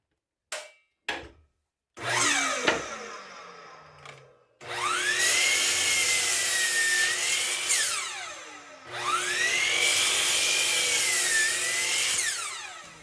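A circular saw with a freshly sharpened blade bites into wood in two long cuts, each rising to a loud, steady whine after a few short knocks and a brief spin-up at the start.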